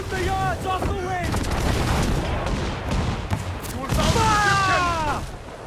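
Ship cannons boom in a naval battle in Assassin's Creed Black Flag, heavy repeated blasts and crashes mixed with shouting crew voices and whistling sounds across a dense, loud battle scene.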